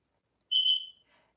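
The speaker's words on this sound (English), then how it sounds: "that is my fire alarm" A home fire alarm sounds a single shrill electronic beep, loud and close, lasting about half a second before fading, with a faint after-chirp.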